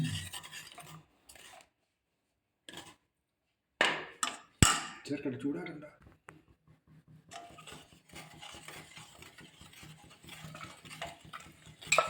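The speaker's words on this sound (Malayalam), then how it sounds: "നന്നായി ഇളക്കി കൊടുക്കാം" Gram flour being stirred into a homemade snack mix, heard as close, rasping scrapes and rubs that begin after a few quiet gaps and continue fairly steadily, with a brief sharp knock along the way.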